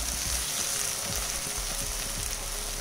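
Onions fry in a pan over the heat, a dense, continuous sizzle with occasional soft stirring scrapes, close and steady without any talking.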